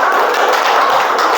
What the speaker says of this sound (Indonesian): Boleh tepuk tangan untuk Yos.